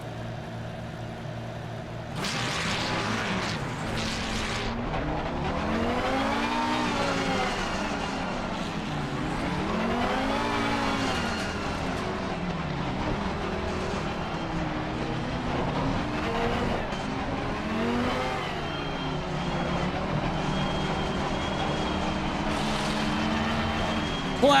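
Race cars in the Assetto Corsa Competizione sim roll through a pace-lap rolling start, a steady dense engine drone with rising and falling revs as the pack holds formation, continuous and fairly loud throughout.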